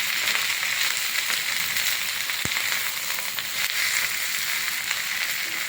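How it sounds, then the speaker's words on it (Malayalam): Moringa leaves crackle and pop vigorously in a hot pan, a steady loud sizzle with scattered sharp pops, one distinct crack standing out midway. "ഈ മുരിങ്ങലയിൽ വെള്ളം ഉള്ളതുകൊണ്ടാണ് അങ്ങനെ പൊട്ടുന്നത്"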